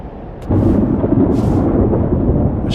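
A heavy thunderstorm in the game Life is Strange: Double Exposure breaks into a loud, sustained rumble of thunder that swells suddenly and rolls on continuously, with hissing bursts of rain and wind on top, no voices.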